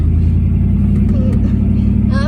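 A scrap hauler truck's engine revs steadily and loudly with a deep continuous rumble as a kid works the clutch, people talking over it.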